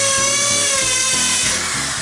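Power drill boring into a wall to set wall plugs and screws for hanging a heavy picture, a steady loud whine with a pitch shift partway through, running continuously without speech.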